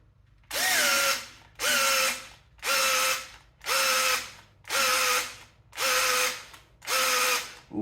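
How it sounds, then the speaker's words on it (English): A power drill spins the oil pump to prime a Ford 460 big block engine, whirring in seven even bursts with short pauses between them, loud and close with no talking. "I'm gonna try a different drill here real quick, just to see if we can get a little more oil pressure"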